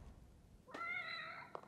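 A cat in The Evil Within video game gives a single clear, drawn-out meow, moderately close against a faint low background hum.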